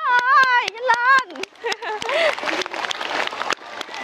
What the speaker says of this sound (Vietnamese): vỗ tay đi mấy đứa ơi, nhanh lên